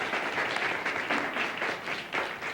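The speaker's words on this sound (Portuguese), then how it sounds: "Palmas para ele, Antônio Abujamra." Studio audience breaks into steady applause, a dense even patter of many hands clapping at moderate volume for the full length, with no talking over it.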